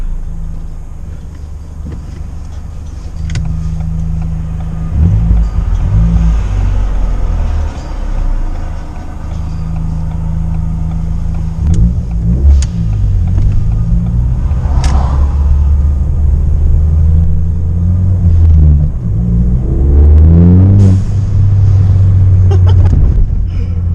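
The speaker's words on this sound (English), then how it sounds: "Just even at a light, just revving." A Ford Fiesta ST engine fitted with a blow-off valve spacer revs again and again up close, its deep rumble climbing and falling in pitch between steady idling stretches.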